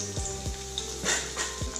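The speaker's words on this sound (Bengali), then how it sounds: "তেলটা গরম হয়ে গেছে, তেলের মধ্যে দিয়ে দিচ্ছি আমি কিছু রসুন কুচি" Chopped garlic sizzles in hot mustard oil in a pan, a steady close crackling hiss with a few soft knocks and a low background hum.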